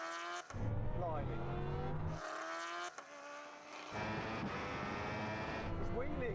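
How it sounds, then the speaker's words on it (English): Bugatti Chiron Super Sport 300+ and Koenigsegg Jesko accelerating hard side by side in a half-mile rolling drag race from 50 mph in second gear, loud engines climbing through gear changes with tire noise and people talking over it. "Now we're going to have a rolling race from 50 miles an hour in second gear."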